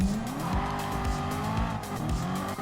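A race car slides sideways on a track, its engine roaring loud and close with repeated rising and falling revs while the tires squeal under the drift.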